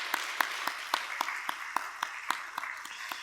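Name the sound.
congregation applauding to welcome newlywed couple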